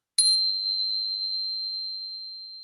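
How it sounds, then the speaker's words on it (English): A small yoga bell struck once, a bright ding that rings on in a clear steady tone, slowly fading and heard alone. "I have my little yoga bell that I'll bring out for us to experiment"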